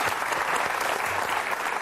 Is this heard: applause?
yes